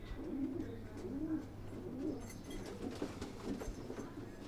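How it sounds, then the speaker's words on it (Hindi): A pigeon coos in soft, repeated rolling phrases close by, alone against quiet background noise. "ये वो कबूतर है भाई।"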